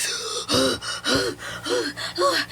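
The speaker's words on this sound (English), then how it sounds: "All three of them came out of sleep as listener gasped for air." Four sharp gasps for air in quick succession, each a loud ragged intake of breath, close to the listener with brief pauses between.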